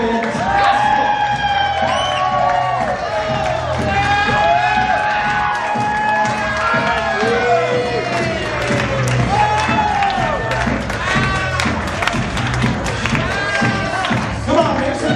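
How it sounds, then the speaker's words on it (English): Wedding guests applaud and cheer for the bridal party at a reception, a loud, dense crowd of clapping, whoops and shouts that runs steadily throughout, with a voice over a microphone and bursts of talk mixed in. "Applause for our entire bridal party."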